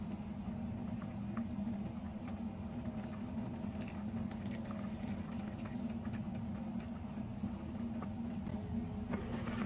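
Water at a rolling boil in a cooking pot on the stove while a shrimp and fish dish is being cooked, giving a steady bubbling rumble and patter that stays even throughout, with no voices.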